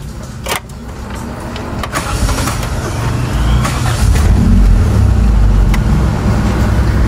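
A Toyota Corolla engine starts and settles into a steady low rumbling idle, close and fairly loud, with no talk over it.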